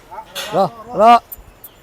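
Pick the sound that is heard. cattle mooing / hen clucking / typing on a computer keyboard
cattle mooing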